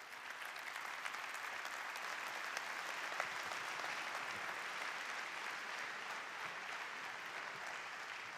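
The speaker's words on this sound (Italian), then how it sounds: "Fate un grande applauso al presidente della Regione Veneto" A large public assembly audience applauds the president of the Veneto region, Luca Zaia, in dense, steady clapping that stays even and fairly distant from start to finish.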